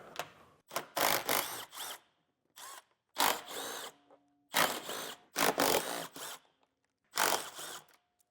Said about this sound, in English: Now we have some 13mm bolts to remove from our skid plate here.